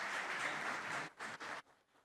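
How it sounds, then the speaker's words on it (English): Audience applause at a Bengal Chamber of Commerce talk session, a dense burst of clapping that holds steady, then breaks into a couple of short bursts before fading out. "Please give a big round of applause."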